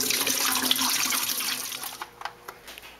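A gallon of water pours into a kettle for homebrewing: a steady, splashing stream runs for a couple of seconds, then thins into a few separate splashes and drips.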